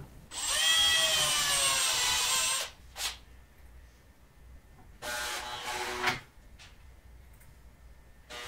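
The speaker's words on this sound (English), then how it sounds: "Make sure you pre-drill all the holes." A power drill pre-drills holes in wooden boards for a wine flight board, with one long whirring run of about two seconds, then a shorter burst, and a few faint clicks in between.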